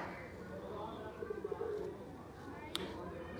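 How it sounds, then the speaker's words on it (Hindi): Soft, low pigeon coos ripple briefly under a steady background murmur, with a sharp click near the end. "अच्छे साइज़ का कबूतर है"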